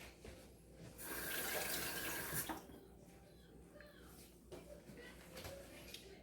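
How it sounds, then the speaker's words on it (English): Running tap water splashes steadily as hands are rinsed at a kitchen sink during quiche preparation, a close, soft rushing stream that swells briefly and settles, with faint background noise. "Let me rinse my hands."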